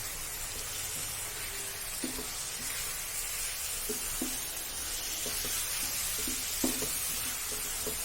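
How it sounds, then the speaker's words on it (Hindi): Powdered spices and half a teaspoon of salt stirred into fried onions for bhuna gosht, a steady soft sizzle with scattered light scraping stir strokes, close and fairly quiet throughout. "सभी पाउडर मसाले हाफ टी स्पून नमक के साथ मिला देंगे।"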